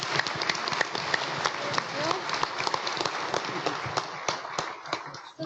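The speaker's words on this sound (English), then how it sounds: "Okay, round of applause for our speaker." A science conference audience applauds a speaker, a sustained patter of many claps in a room, moderately loud and steady, tapering slightly at the end.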